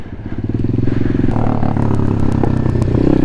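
A pit bike engine revs hard and close for street wheelies, rising in pitch with a steady buzzy drone and some mechanical clatter, alone without talk.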